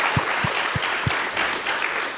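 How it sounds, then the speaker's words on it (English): A conference panel audience applauds steadily, a dense wash of many hands clapping at moderate distance, with a few louder individual claps near the start. "Let's start applauding the panelists a little bit now"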